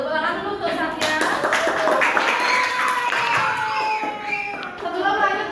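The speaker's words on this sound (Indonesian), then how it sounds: "Tepuk tangan dulu untuk Satya." A classroom of students claps for a classmate, scattered overlapping hand claps mixed with children's voices and chatter throughout.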